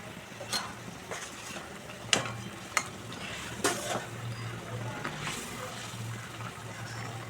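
Fried eggs are dropped into a boiling egg curry and stirred, giving a soft simmering bubble with a few sharp clinks and scrapes of a utensil against the pot, fairly quiet and close.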